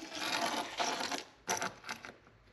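A hook assembly is screwed onto a Rattle Trap fishing lure, giving close ratcheting, clicking mechanical turns in a few short bursts, with no talking.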